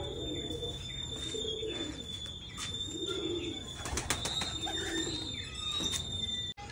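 Pigeons cooing in soft, repeated low rolling calls, close by, with a steady high hum and faint chirps and movement in the background.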